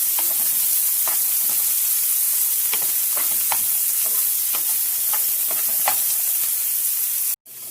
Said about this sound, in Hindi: ऑनियन को हम जो है वो ब्राउन कर लेंगे, लाइट ब्राउन।